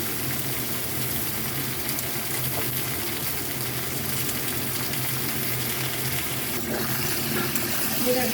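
Vegetables sizzling in a pan for Bengali pui shak chorchori, a continuous loud hiss and crackle of frying that runs steadily throughout with no talking over it.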